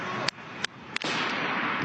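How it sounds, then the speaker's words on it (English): Three sharp gunshots ring out about a third of a second apart during a mass shooting at Virginia Tech, loud and close against a steady, dense noisy background, with no talk. "Some gunshots."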